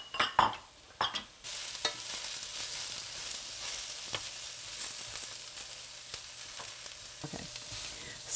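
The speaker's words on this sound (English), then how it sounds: "we're going to add in our last vegetables, which are the peas and the spinach" Peas and spinach go into a pan of sautéing vegetables with eggplant. A few loud clattering bumps at the start give way to a steady, broad sizzle with occasional stirring knocks, and no one speaks.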